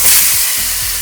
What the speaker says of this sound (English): we're gonna drop the shrimp in,